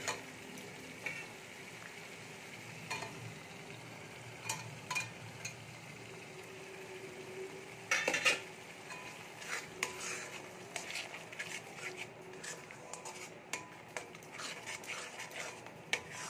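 Spice paste of cashew, raisin and melon seeds frying in a pan, a soft sizzle under scattered ticks and clinks of a utensil scraping and stirring, fairly quiet and close.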